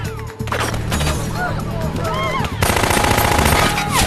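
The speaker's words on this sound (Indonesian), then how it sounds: "Jack segera melepaskan tembakan dan berhasil menjatuhkan salah satu dari mereka" Rapid bursts of film gunfire crackle loudly over a dense soundtrack, with a voice talking underneath the shots.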